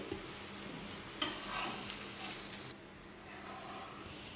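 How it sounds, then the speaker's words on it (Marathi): Garlic paratha roasting crisp on a hot pan gives a steady close sizzle and crackle, brighter for a moment midway before settling into a softer hiss. "छान असा खरपूस भाजून घ्यायचा आहे पराठा"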